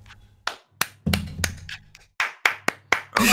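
Hands clapping in a brief, uneven round of applause, about ten sharp claps at irregular intervals, close and fairly crisp with quiet gaps between.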